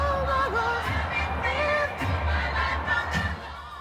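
A large football stadium crowd roars and cheers in a continuous, dense wash of voices, with scattered higher shouts and whistles rising above the din.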